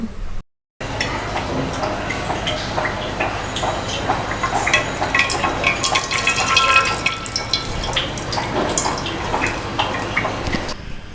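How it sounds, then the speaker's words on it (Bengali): Sliced raw banana pieces drain of water for banana chips, with close, irregular dripping and trickling and soft clatter from start to end. "খুব ভালোভাবে পানিটা ঝরিয়ে নিচ্ছি"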